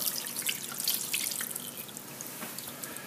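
Beef broth (bouillon) is poured into a pan. It makes a continuous close splashing and trickling of liquid, fairly soft, with no talk.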